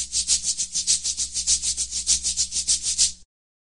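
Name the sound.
maracas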